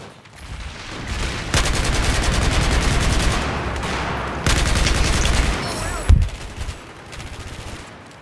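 Frag rounds fire from an assault rifle in a game, sustained rapid bursts of loud automatic gunfire with explosive cracks, broken by a short pause and ending in a sharp blast.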